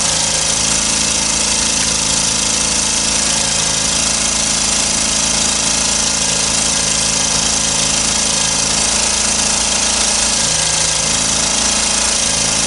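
A small Honda E40 generator runs close by with a loud, steady mechanical drone, unbroken and unchanging for the whole stretch.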